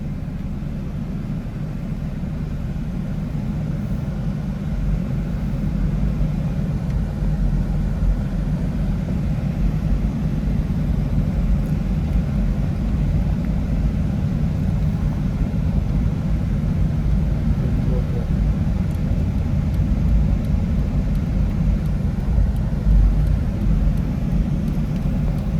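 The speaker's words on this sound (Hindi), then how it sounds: "अब मैं आपको इस गाड़ी का POV ड्राइव दिखाता हूँ" A project car, bought with drifting in mind, rumbles along in a steady low-pitched engine drone throughout a first-person drive, with a constant even level and no speech.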